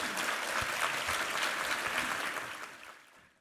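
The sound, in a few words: congregation applause in church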